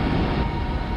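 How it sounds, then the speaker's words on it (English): Wind on Saturn's moon Titan, recorded by the Huygens probe during its 2005 descent through the thick atmosphere, comes through as a steady, dense roar of broadband rumble and hiss with no pauses. "The sound of the winds from a tiny moon nearly 1 billion miles away."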